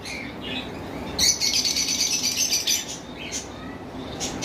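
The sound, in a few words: lovebirds and cockatiels in a bird shop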